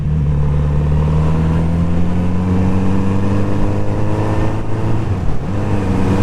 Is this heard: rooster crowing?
no